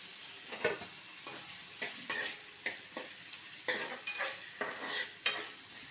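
Tomatoes sizzle in a hot pan with ginger paste and turmeric for egg fried rice, while a spoon stirs and scrapes in uneven strokes over a steady close frying hiss.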